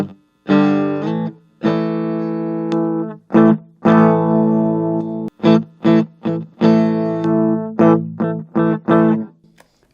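Harley Benton ST-Modern HH Plus electric guitar played through the bridge humbucker in coil-split mode, a thinner single-coil tone with a slight hum, loud sustained chords broken by short choppy strums and pauses.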